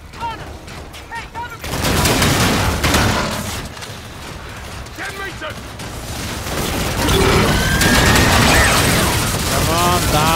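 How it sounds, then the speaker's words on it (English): Rapid bursts of futuristic energy-gun fire in the shooter game Call of Duty: Infinite Warfare, loud and close, mixed with mechanical clatter and other battle effects. "Okay, I better switch to my energy gun."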